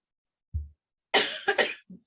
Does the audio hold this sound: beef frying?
no